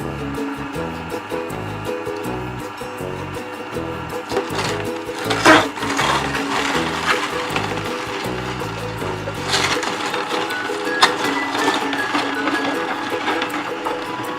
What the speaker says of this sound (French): je mets l'extracteur en route